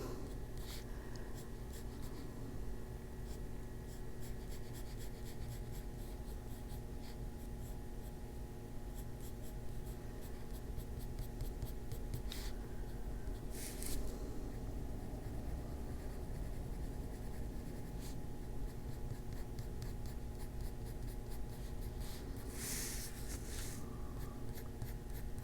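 Colored pencil scratches on paper in quick little flicks while drawing hair strands, a faint, steady, close-up scratching with repeated short strokes and a soft background hum.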